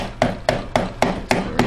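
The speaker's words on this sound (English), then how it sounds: "Now just get a hammer and hit it down till the rings" Hammer taps pushing the piston rings down on a 3.5 HP Tecumseh lawnmower engine during a rebuild: six evenly spaced, fairly close metallic knocks about a quarter second apart, with no talking.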